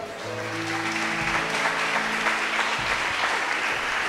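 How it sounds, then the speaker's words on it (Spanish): Church congregation clapping in unison, a steady wash of applause with sustained organ or keyboard chords ringing underneath. "Dale un aplauso al Señor."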